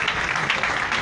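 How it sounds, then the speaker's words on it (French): Crowd applause at a political rally, a continuous dense roar of clapping at steady volume through the brief moment, with little speech heard. "Il faut vous applaudir."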